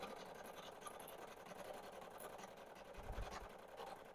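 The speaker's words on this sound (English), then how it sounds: "I am gonna wind some bobbin." A sewing machine winds a bobbin with a continuous, even motor whir close by, steady throughout with no talking.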